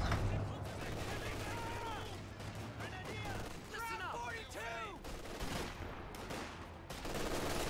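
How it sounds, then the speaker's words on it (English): MG42 machine gun fire in the Company of Heroes 2 strategy game, a dense, continuous rattle of gunfire and battle noise running the whole way under a male caster's steady commentary. "MG42 opening up fire on the riflemen."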